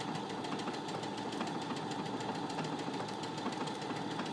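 A Brother Innov-is A150 sewing machine runs continuously, stitching out a row of bicycle motifs: a rapid, even mechanical whir and chatter at steady speed, close and moderately loud, with no voices.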